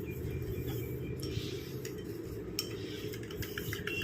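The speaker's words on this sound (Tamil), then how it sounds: "இந்த மாதிரி கரண்டி வச்சு நல்லா கலந்து விட்டிங்கன்னா நல்லா திக்காக ஒரு கன்சிஸ்டன்சியில் நமக்கு வரும்" Egg white and powdered sugar are mixed in a bowl with a spoon, producing light, close clinks and scrapes of metal against the bowl over a low background hum.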